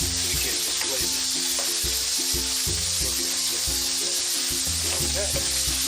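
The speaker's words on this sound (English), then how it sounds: "Now we can add our tomatoes. Let's saute and bring them down also." Onions and tomatoes sautéing in a hot pan for a snow crab curry, a loud steady sizzle with rhythmic scraping stirs underneath, close up and without talk.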